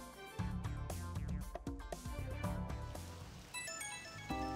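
Phone ringtone in Persona 5 Royal, a melodic electronic ring pattern repeating over background game music, clear and mid-level, with no talk.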